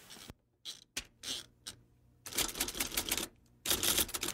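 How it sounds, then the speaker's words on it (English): Typewriter keys clacking in bursts: a few isolated strikes and short runs, then longer rapid flurries of loud, close typing with brief pauses between. "cue typewriter noise"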